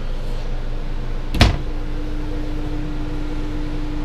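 A single sharp thud of a kitchen drawer or cabinet shutting inside a Coachmen Mirada 34BH motorhome, close and alone over a steady low hum.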